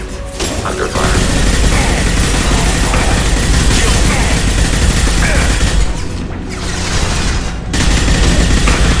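Heavy gunfire in Mass Effect 2 combat, a dense, loud barrage of shots and booming impacts that runs almost continuously, with brief dips and a voice speaking beneath the clatter.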